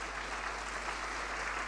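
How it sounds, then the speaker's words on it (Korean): A church congregation applauds during a Korean ordination thanksgiving service, with soft, steady clapping that sounds distant and faint. "여러분 큰 박수로 격려해 주시면 감사드리겠습니다."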